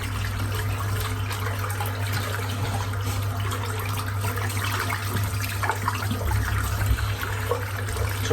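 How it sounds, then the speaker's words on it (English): Steady running water rinses soap out of a Semogue boar shaving brush at a sink, a continuous, even, moderately quiet flow with faint splashes and no talking. "I'm just going to rinse the soap out."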